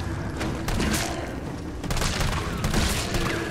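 Sustained assault rifle fire in a video game, a dense stream of loud, close shots with heavy thumps and booms running continuously throughout.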